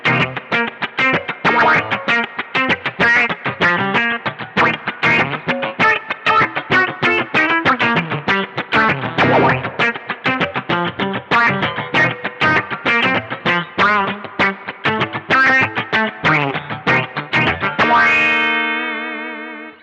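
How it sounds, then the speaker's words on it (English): Dense run of rapid, wah-like filtered guitar notes from an envelope filter pedal, with a squelchy, distorted tone, steady and loud for most of the stretch, ending on a sustained ringing chord. "My go-to and what I really use filtering for is envelope filters."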